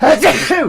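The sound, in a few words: sneeze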